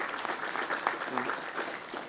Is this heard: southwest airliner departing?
no